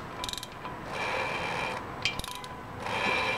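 A brake rotor spun by hand against a dial indicator gives off soft mechanical whirring and ratchety clicking, close and quiet, with a couple of sharper ticks partway through.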